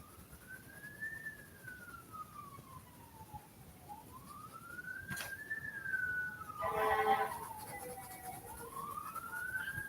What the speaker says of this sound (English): There's always sirens and fire trucks.